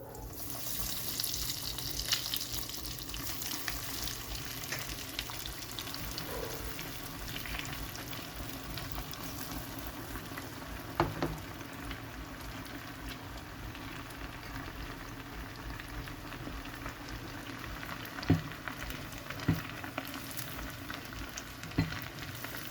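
Rice balls (bolinhos de arroz) made with ham fry in hot oil, giving a continuous, even sizzle with a few sharper pops and light clicks near the end, close and moderately loud, with no speech.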